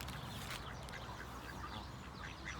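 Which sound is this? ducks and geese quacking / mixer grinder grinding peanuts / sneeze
ducks and geese quacking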